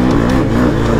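A dirt-bike engine on a timbersled conversion revs steadily and close, holding a strong droning tone for about a second with no voices over it.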